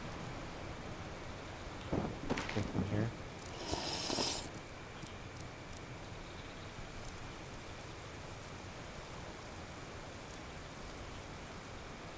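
Steady rain in the survival game Card Survival: Tropical Island, a faint continuous hiss of drops with a low rumble of thunder running underneath, while a voice briefly speaks early on.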